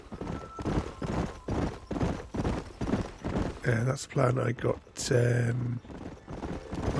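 Rhythmic hoofbeats from horses in Red Dead Redemption clop steadily and loudly close by, with a horse whinnying midway and someone talking over them.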